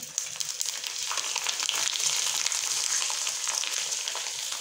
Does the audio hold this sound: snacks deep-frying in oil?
yes